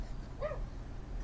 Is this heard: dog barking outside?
yes